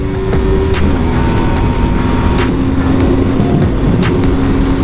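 A Yamaha R3 motorcycle screams at full throttle around a race track, its loud, steady engine roar filling the entire stretch with an unbroken high-revving drone and sharp periodic bursts.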